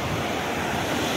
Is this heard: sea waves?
yes